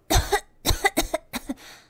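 A voice lets out a short series of deliberate, staged coughs in quick bursts, close and clear, trailing off into a softer breath.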